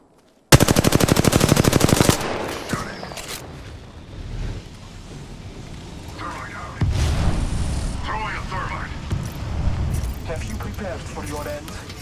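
Rapid automatic gunfire from a video game opens loud and close, then gives way to shooting and blasts that come and go under a player's talk.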